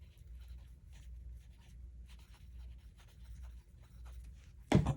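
A pencil scratches across paper in soft, close, repeated strokes that run steadily and quietly, followed by a brief louder rustle at the end.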